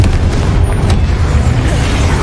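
A Confringo spell explosion in Hogwarts Legacy makes a deep, rumbling boom that rolls on dense and loud through the whole short moment, with no clear voices.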